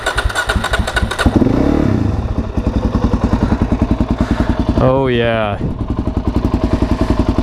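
A Suzuki DRZ 400 motorcycle fitted with an MRD Pro Comp exhaust starts up with a loud, rapid, thumping single-cylinder idle, then a sharp rev mid-way before settling back, with a voice speaking briefly near the start.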